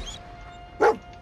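A single short dog bark from a video game dog in Fallout 4, close and fairly loud, standing out once against a low, steady background hum.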